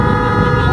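A vehicle horn honks steadily and loud for under a second, a sustained tonal blare during an endurance cup event, with engine and road noise underneath.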